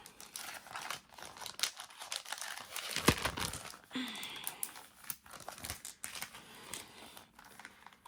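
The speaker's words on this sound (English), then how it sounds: "I'm going to peel this one off." A sticker peeling off release paper gives crinkly, crackling tearing bursts, close and fairly quiet, interspersed with handling rustles.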